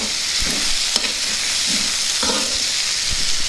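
Potato and capsicum pieces are stirred in a hot pan, giving a constant sizzling hiss with several soft scrapes and clacks of the spoon, close and clear, with no talking.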